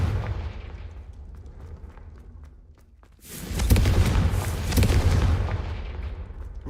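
Confringo blasting spell detonating in Hogwarts Legacy: after a quieter stretch, a loud, broad explosive burst erupts around the midpoint and rumbles on with sustained crackling debris until the end.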